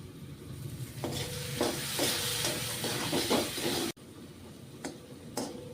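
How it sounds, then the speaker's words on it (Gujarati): Red and green chillies fry in hot oil with a steady sizzle and hiss, broken by scraping stirs of a spoon, then a short quiet break before the sizzling resumes. "તો આપણે 2 મિનિટ તેલમાં પાકવા દેશું."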